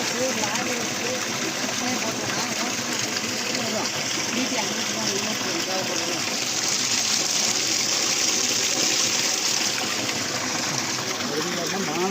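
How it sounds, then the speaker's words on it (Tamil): Water gushes steadily from the outlet of a Versil PMSM solar pump under a cloudy sky, a loud continuous broadband rush lasting throughout while someone talks over it. "ஆனால் தண்ணி வந்துட்டு தான் இருக்குது"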